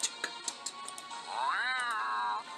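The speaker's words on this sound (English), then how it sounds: "That was a cat." A cat named Jazz gives one drawn-out, rising and falling meow, close and fairly clear, just after a few light clicks.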